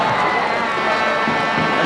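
Football crowd at a Sydney United match roaring loudly in a dense, continuous swell as a shot is struck toward goal, with no pause throughout.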